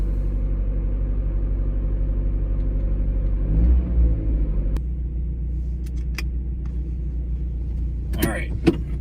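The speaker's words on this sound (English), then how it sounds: "I'm going to let the engine warm up just a wee bit." A 1994 Mazda Miata engine idles cold while warming up, a steady low throb with a brief rise in revs partway through, then settling; a few clicks and a short rattle follow near the end.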